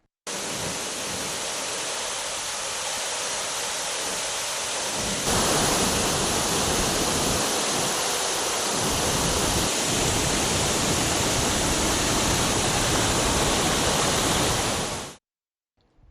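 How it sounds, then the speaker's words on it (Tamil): A flash-flood torrent pours down Kaviyaruvi waterfall near Pollachi after heavy hill rain, a loud, unbroken roar that swells partway through before cutting off abruptly. "பொள்ளாச்சி அருகே மலைப்பகுதிகளில் பெய்த கனமழையால் கவியருவியில் காட்டாற்று வெள்ளம் ஏற்பட்டுள்ளது"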